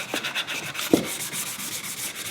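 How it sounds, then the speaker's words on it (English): Folded 180 grit sandpaper rubbed over the underside of a wooden toy crossbow in quick, steady back-and-forth strokes, close and soft, with one sharper knock partway through. "So this is the 180 grit again, folding a little bit, and just go over everything you've just done."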